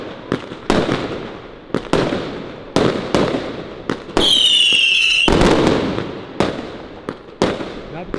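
A 919-shot New Year's fireworks cake goes off in a rapid run of loud, sharp bangs, about a dozen in eight seconds. Midway comes a sustained crackling and whistling burst, and the display is heard close by.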